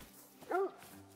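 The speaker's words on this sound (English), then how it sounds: "He's barking." A tracking dog gives one short, sharp bark at moderate distance while following a deer trail outdoors, with quiet surroundings before and after.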